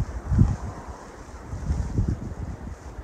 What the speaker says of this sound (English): It's a little nippy with that wind.